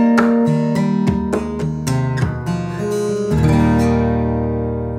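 Acoustic guitar played slowly in a percussive style for the chorus of a song, with sharp slaps on the body between strummed chords in a steady groove, close and clear, with no talking.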